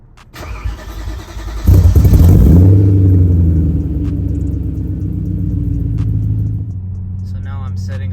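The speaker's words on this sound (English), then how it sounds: "I'm setting off in the muffler deleted M3, and as you can hear, it's very drony in 7th gear" BMW E93 M3 with its mufflers deleted, heard as the engine starts up then settles into a loud, deep droning rumble close by, a steady low-pitched exhaust tone that holds for several seconds.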